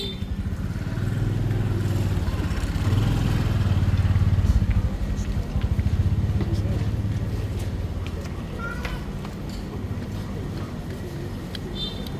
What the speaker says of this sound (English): Oh, that's another motorcycle.